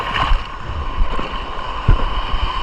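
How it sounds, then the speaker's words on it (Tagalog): Big sea waves surge and wash against rocks along a shore during ultralight fishing, a steady rushing roar with several heavier swells breaking through and wind buffeting the microphone. "laking alon"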